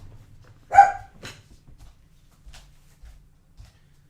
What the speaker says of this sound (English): What are you even barking at?